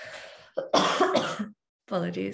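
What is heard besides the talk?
cough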